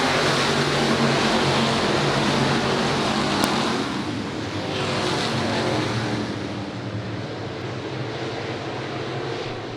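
602 Sportsman race cars at Patriots Park Raceway roar around the track in a steady, loud engine drone with broad roaring noise, swelling slightly as the pack passes, with no talk.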